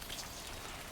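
Rain in the video game Death Stranding 2, a soft continuous patter of drops on surfaces, faint and steady with no voices.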